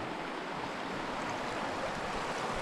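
A river runs beside a winter campsite in remote New Zealand, a steady broadband rush of flowing water, close and unbroken, with no voices.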